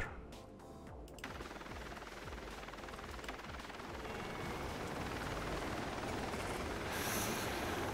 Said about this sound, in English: So we have helicopter transport.